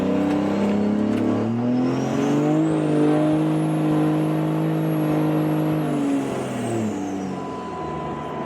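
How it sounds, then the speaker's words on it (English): Inside a moving car on the road, a steady engine drone and road rumble carry throughout, with the engine note rising and easing as it accelerates, and no talking. "we are driving right now"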